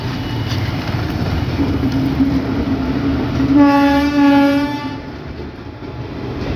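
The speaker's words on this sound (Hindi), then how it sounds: "और ये ट्रेन है guys Pilibhit Bareilly city 0:53:30 passenger." An Indian passenger train, the Pilibhit–Bareilly City service, rumbles loudly past, its horn sounding for about a second midway through the steady rolling noise.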